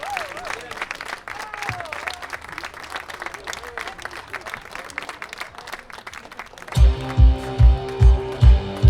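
Audience applause at a concert showcase with crowd noise and some voices, then a rhythmic thumping beat of music starts near the end.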